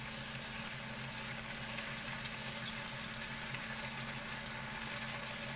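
Honeyaki beef skewer sizzles steadily in a hot pan, a dense, even crackle of frying with no pauses and no voices.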